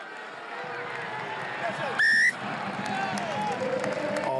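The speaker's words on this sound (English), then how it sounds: "He's getting the whistle from the home crowd." Whistling from the home crowd at a French Top 14 rugby match between Toulon and Castres, with one sharp, loud whistle burst rising above the stadium noise and a commentator talking throughout.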